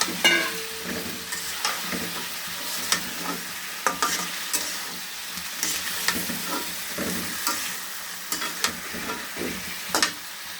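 Potatoes, eggplant and tomato fry in a pan with a steady sizzle, broken by repeated scraping stirs at an irregular rhythm, close and clear, with no speech.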